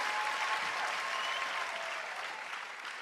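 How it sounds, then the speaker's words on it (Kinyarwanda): A church congregation applauds, many hands clapping in a dense, sustained roar that fades slightly toward the end, heard alone without talk. "Ayo mashyi n'imbara y'itorero muyakome cyane"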